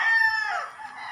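A rooster crows at a small backyard chicken farm, one close, loud, drawn-out call that tapers off toward the end.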